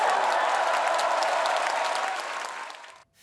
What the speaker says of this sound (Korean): 평양에서도 다 들리게 큰 박수를 부탁드립니다.